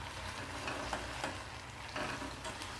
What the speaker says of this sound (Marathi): ही भिजवलेली मिरचीची पेस्ट आहे, त्याच्यामुळे याला तेलामध्ये शिजवणं गरजेचं आहे।